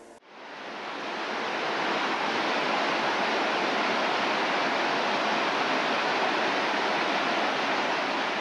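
Broad, continuous rushing of the Little Sioux River flowing, steady and fairly loud after a brief quiet start, with no voices.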